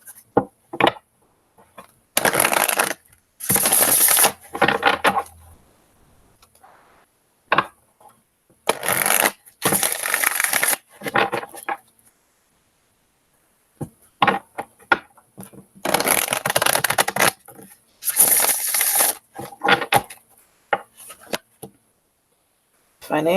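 Oversized tarot cards shuffled by hand in repeated bursts of riffling, shuffling and tapping, close and fairly loud, separated by pauses.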